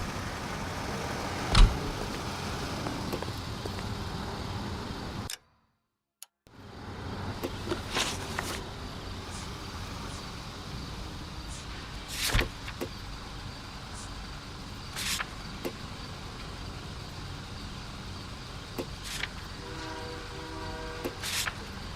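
Continuous engine and road rumble of a car driving in the video game L.A. Noire, steady throughout with a short dropout and occasional sharp knocks and clicks.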